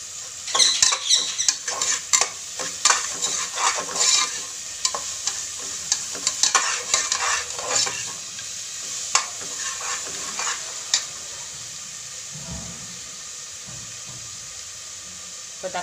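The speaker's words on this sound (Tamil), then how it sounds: "வெங்காயம் நல்லா வதங்கட்டும்." Onions sautéing in a pan for vegetable kurma, stirred with quick rhythmic scraping and clattering of a spoon over a light sizzle for most of the time, then easing into a quieter hiss near the end.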